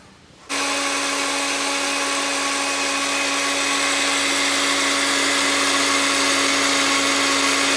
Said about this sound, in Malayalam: ചൂടാറിയതിന് ശേഷം ഇതിനെ നമ്മൾ മിക്സിയിലിട്ട് നല്ല ഫൈൻ പൗഡർ ആക്കിയിട്ട്